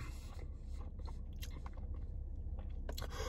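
Someone bites into and chews a crunchy-crusted, soft-centered pepperoni pizza pretzel from Sam's Club, with close, faint crunches and mouth sounds in short bursts.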